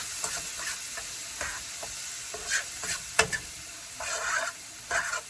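Ingredients for a creamy garlic Tuscan sauce sauté in a pan with a continuous hissing sizzle, broken by several spoon scrapes and one sharp clack near the middle, heard up close with no voices.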